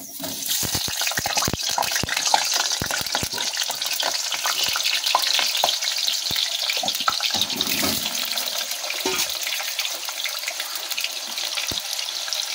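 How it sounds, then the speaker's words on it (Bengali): Potato pieces fry in hot oil for a mutton curry, producing a loud, continuous close-up sizzle dense with crackles and pops, plus occasional scraping as they are stirred. "এবার আলু পিসগুলো আমরা দিয়ে ভেজে নেব আগে"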